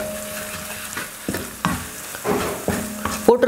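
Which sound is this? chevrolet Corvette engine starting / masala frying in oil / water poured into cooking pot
masala frying in oil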